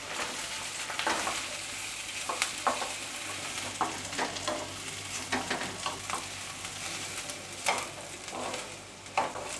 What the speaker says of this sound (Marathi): तर पहिल्यांदा आपण यामध्ये कांदा आणि खोबरं घालूया आणि सोनेरी रंगावर आपल्याला परतून घ्यायचं आहे